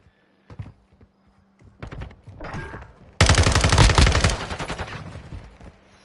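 Pistol gunfire in a video game: scattered sharp shots early on, then a sudden loud burst of rapid fire that continues and slowly fades, with no talking.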